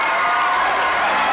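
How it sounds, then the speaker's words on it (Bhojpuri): Steady applause and cheering from the audience at a Bhojpuri stage show, a brief unbroken wash of clapping. "एक चाचा के नाम जोरदार ताली हो जाए हो"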